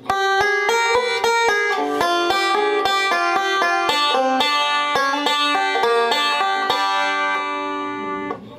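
A banjo picks a bluegrass forward-backward roll at full speed, a dense, even stream of bright plucked notes with a sharp attack on each, loud and close with no voice over it.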